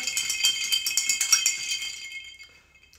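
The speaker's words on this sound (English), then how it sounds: "And then just stir it away." Ice rattling in a glass as a gin and Aperol cocktail is stirred: a quick run of bright clinks and knocks for about two seconds that then fade away, with no talk.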